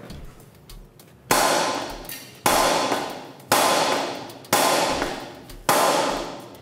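A hammer strikes a steel fork tool wedged against a corroded part, five sharp metallic clangs at roughly one-second intervals, each ringing out and decaying, loud and close with no talk.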